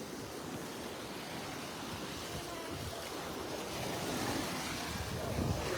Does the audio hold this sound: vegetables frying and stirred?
no